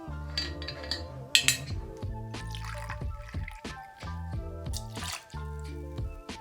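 Gin poured into a measure for a cocktail, with dripping and trickling liquid alongside clinks of glass and metal, close up and fairly quiet in short irregular bursts.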